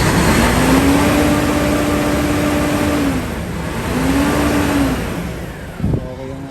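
Hino 700 series truck engine revving during a pre-auction inspection, loud and close, its pitch climbing and falling across two rev cycles before a short thump near the end.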